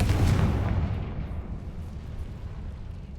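A Confringo fire spell blast in the video game Hogwarts Legacy bursts loudly at the start, then trails into a long rumbling decay that fades over several seconds.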